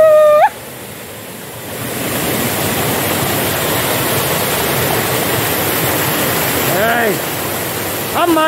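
Water rushes between rocks at the Ayyappanchola stream. The roar is loud, steady and broadband throughout, with short whistling tones near the start and end.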